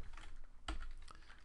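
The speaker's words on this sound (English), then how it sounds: "So I'm just gonna type in hello world" Quiet clicks of typing on a computer keyboard, a short burst of keystrokes with one stronger tap, close and alone.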